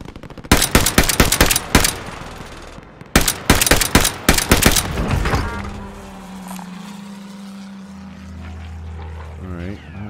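Rapid automatic gunfire in Call of Duty Warzone bursts loudly and close in two long rattling volleys, then gives way to quieter engine hum and faint game noise.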